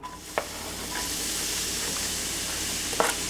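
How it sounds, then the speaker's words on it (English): Onion sautés in a pan for a blackberry spaghetti marinara, giving a continuous, even sizzle and hiss, with a couple of sharp utensil taps near the start and end. "First, I'm going to saute some onion."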